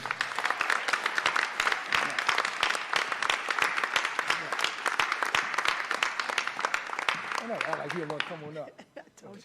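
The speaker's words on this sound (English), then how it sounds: "So I need you to give her a warm round of applause for her." Sustained audience applause at a kids' scholarship awards night, dense clapping filling the room for most of the stretch before fading out, with a voice emerging near the end.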